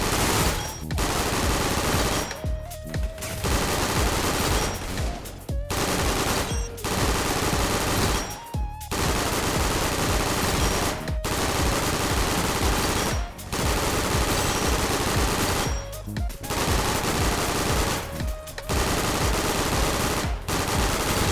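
Loud, sustained automatic gunfire from a modded AUG rifle in a video game, long continuous bursts broken by brief pauses, with no talk over it.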